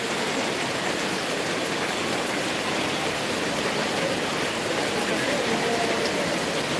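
Heavy evening rain pours down steadily, a dense, even hiss of drops on surfaces that stays loud and unbroken throughout, with faint voices now and then beneath it.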